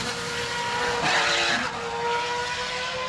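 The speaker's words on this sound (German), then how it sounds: "Der Sound war, das Ansauggeräusch, das war einzigartig." A race car roars loudly with a mix of intake and exhaust noise, a steady, harsh engine blare that swells slightly midway before settling.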